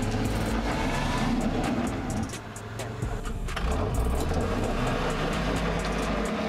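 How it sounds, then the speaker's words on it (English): Hummer H3 engine labouring under load on a steep off-road climb, wheels spinning, with a continuous loud drone that dips briefly and then surges again. "to the sounds of the engine running under load, the Hummer continues ahead"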